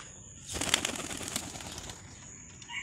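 A checker pigeon gives a brief burst of sound as it is released, mostly soft and faint, with a short flurry near the start.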